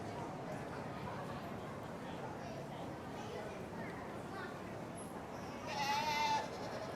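A Boer goat bleats once near the end, a short, clear cry rising over a busy, noisy crowd at an indoor goat show ring, with people talking throughout.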